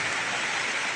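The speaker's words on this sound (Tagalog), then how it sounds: "Malakas ng ulan." Heavy tropical storm rain pours down at a seaside house, a dense, loud, unbroken hiss of drops with no gaps.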